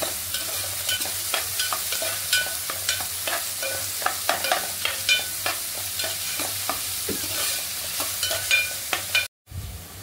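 Chopped onion sizzles and is stirred in a hot pan with a cinnamon piece for egg fried rice, a steady frying hiss broken by frequent clicks and scrapes of the spoon, close and continuous, ending in a brief cut.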